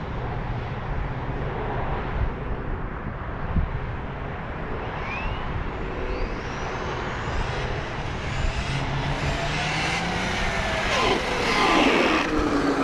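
A Traxxas Rustler 4X4 RC truck with a Spektrum upgrade and a wrong-size wheel bearing drives steadily, giving a continuous electric motor whine and rolling noise with wind buffeting that swells louder near the end.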